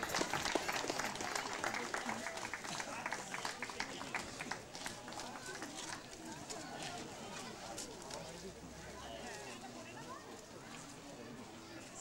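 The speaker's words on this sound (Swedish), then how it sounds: "en stor applåd!" Applause for the winners of a 10-kilometre race at an outdoor prize ceremony after the finish, a dense steady clatter of clapping from a crowd lasting the whole stretch, with voices mixed in.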